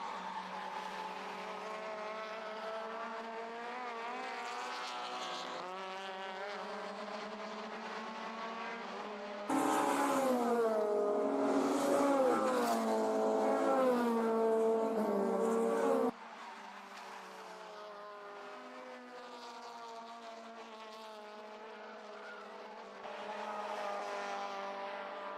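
Honda Civic EG race cars with K-series engine swaps, Time Attack and Honda racing at Oulton Park, scream along the track with a sustained high-revving engine drone, gear shifts and changing pitch as cars pass, loud and continuous.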